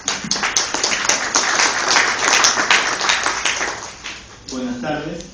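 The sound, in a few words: audience applause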